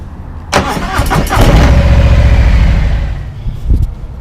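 A 2020 Harley-Davidson Low Rider S motorcycle engine cranks and fires, catching into a loud, close, steady rumbling idle with a slight rev bump near the end; no talking.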